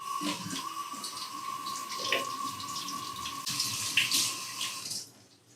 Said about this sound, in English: So you wanna wash them under cold running water.